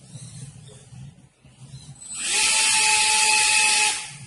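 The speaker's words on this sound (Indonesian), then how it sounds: "kemudian mematikan menggunakan kipas motor brushless." A brushless motor fan on a wheeled firefighting robot in a fire-extinguishing contest spins up with a loud, steady high whine and airy rush, holding for about two seconds after a quieter start with background noise.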